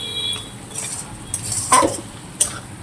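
A spoon stirs and scrapes potato curry with tomato in a pan, giving a few light metallic clinks and scrapes over a soft sizzle, close and fairly quiet.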